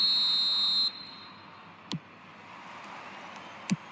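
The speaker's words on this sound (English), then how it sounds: "There's the whistle." A referee's whistle at kick-off in the eFootball mobile video game, heard as a high, tone-like blast in the opening second, followed by two short sharp clicks over quiet crowd ambience.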